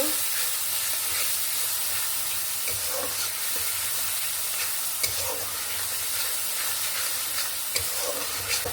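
Rohu fish curry sautéed with salt and turmeric powder sizzles in hot oil with a constant close hiss, broken by faint scraping stirs.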